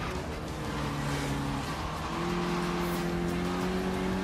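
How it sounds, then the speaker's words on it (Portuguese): A car drifts around a Hot Wheels track in Forza Horizon 3, its engine holding a steady droning tone that steps up in pitch midway, under a rushing tire and road noise. "Pode fazer um drift legal aqui agora"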